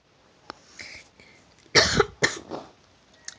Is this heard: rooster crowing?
no